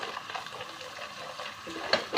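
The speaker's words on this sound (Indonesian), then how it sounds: "Kita tumis dulu bumbunya biar wangi." Spice paste with chili sautéing in a pan for an Indonesian curry, giving a steady close sizzle with soft stirring scrapes throughout and a brief louder clink near the end.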